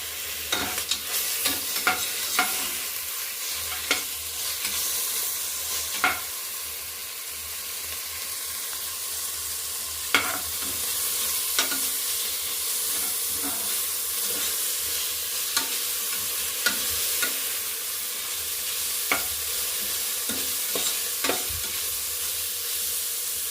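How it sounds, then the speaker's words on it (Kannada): Ginger garlic paste fries in a pan with a steady, bright sizzling hiss, punctuated by sharp spoon clinks and scrapes at irregular intervals, close up with no voices. "1 ಸ್ಪೂನು ಶುಂಠಿ ಬೆಳ್ಳುಳ್ಳಿ ಪೇಸ್ಟ್, ಅದು ಒಂದು ಸ್ವಲ್ಪ ಸೆಕೆಂಡ್ ಬಾಚಿಕೊಂಡ್ರೆ ಸಾಕು"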